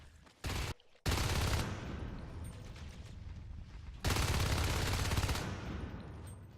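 Automatic gunfire in the video game Natural Selection 2, loud bursts of rapid fire with a brief gap near the start and a second sustained volley later, without voices.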